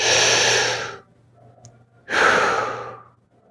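Deep belly breathing, one long exhale followed by a pause and then another long, airy breath, close to the microphone and fairly loud, with no speech.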